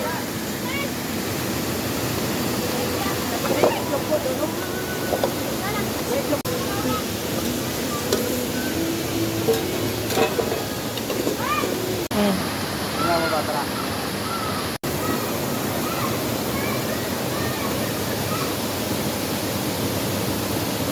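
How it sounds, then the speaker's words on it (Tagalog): Tuntunan Falls in Maliod, Bataraza, Palawan, pours steadily as a broad, constant rush of water, with voices faintly heard over it. "ito ang ano, Tuntunan Falls dito sa Maliod, Batarasa, Palawan"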